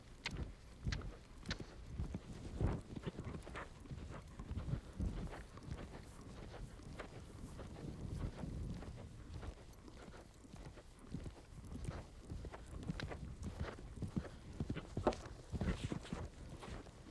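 A ridden horse at a novice equestrian competition clip-clops in an irregular stream of soft hoof falls, faint and somewhat distant, with no talk over them.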